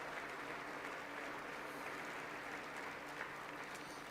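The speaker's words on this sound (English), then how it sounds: "I wasn't sure if anybody, even on this side, was going to applaud for that." Sustained applause fills a large chamber at a State of the Union address, a steady dense clapping heard at a distance and at low level.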